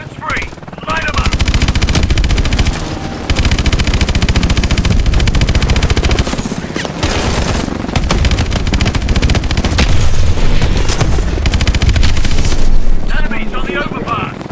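Sustained, loud automatic gunfire and explosions from a Call of Duty: Advanced Warfare battle, dense bursts running nearly nonstop with booming hits, while voices speak over the fighting.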